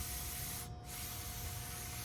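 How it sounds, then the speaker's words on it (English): Steady, loud aerosol spray of brake cleaner blasting old grease off brake and suspension parts, one continuous hiss with a brief dip partway through and no talking. "I'm just using some brake clean."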